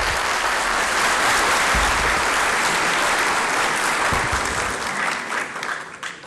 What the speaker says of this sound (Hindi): वक्फा मैंने तालियों के लिए दिया था